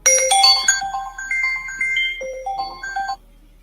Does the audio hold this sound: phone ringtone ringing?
yes